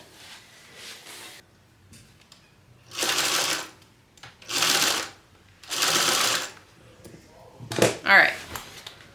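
Sewing machine stitching a fringe clutch lining at a 3/8 inch seam, in three steady bursts of a few seconds each, close and fairly loud, with softer handling noises between the runs.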